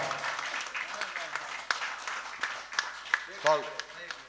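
Audience applause at an All India Mushaira welcome in a marriage hall, scattered clapping under a crowd murmur with a few sharper claps, while a voice speaks briefly over it.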